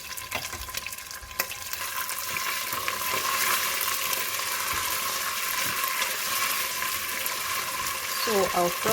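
Tomato paste fries in hot oil in a pot with a steady, bright sizzle that swells and holds, punctuated early by a few sharp scraping stirs and ending with metallic clinks.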